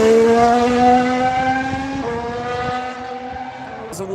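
A Ferrari Formula 1 car sweeps into turn 1, its high-pitched engine whine loud and close, the pitch dropping in steps through downshifts as it brakes for the corner.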